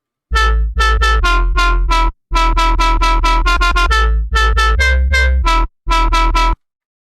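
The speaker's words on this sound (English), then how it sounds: "how you can make a UK-based wob sound within Serum that sounds something like this" A heavy UK bassline wobble synth made in Serum plays in choppy, rhythmic bursts with short gaps, its tone wobbling and growling, loud and alone with no talking.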